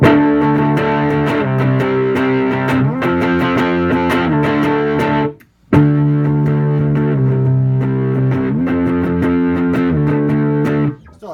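Electric guitar driven through a handmade, modded Russian Big Muff fuzz pedal, thick and saturated with sustained distorted chords, a brief drop to silence midway, then more dense fuzzy strumming; no talking.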